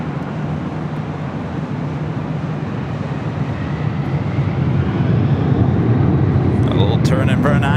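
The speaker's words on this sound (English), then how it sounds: "Delta Airlines Flight 330 heading to Honolulu. This 26-year-old 767-300ER" A 26-year-old Delta Air Lines Boeing 767-300ER rolls down runway 24 Left at LAX for Honolulu, its engine rumble growing heavier and louder over a few seconds as it builds power, with a brief higher whine near the end.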